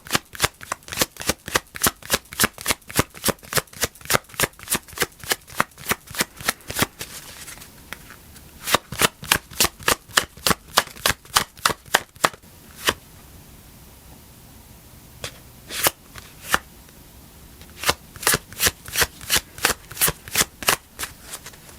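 Tarot cards are shuffled by hand for a reading, a long run of crisp, rapid riffling snaps in steady bursts with brief pauses between, close and loud.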